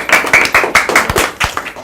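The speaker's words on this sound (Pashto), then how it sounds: "چکچک ورته وکړه" Children clap in a steady run of about eight sharp, near claps, with a few short pauses between the bursts and no voices over them.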